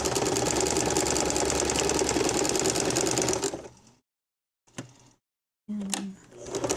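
Close, loud, continuous motor whir of a sewing machine stitching jute rope, which stops abruptly and is followed by two short bursts of machine noise separated by silence.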